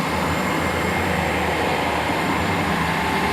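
Class 800 train 800 006, with 800 028 on the rear, pulling out of Swindon station on a service to Bristol Temple Meads; a steady, loud, broadband rumble and hum continues throughout with no voices.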